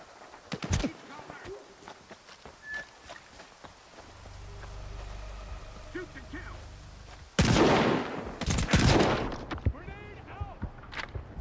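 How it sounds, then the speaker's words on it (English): Rifle fire in the video game S.T.A.L.K.E.R. 2 comes as scattered sharp shots and louder cracking bursts amid rumbling game ambience, with a voice talking in places. "It's like I'm really being shot with rifles."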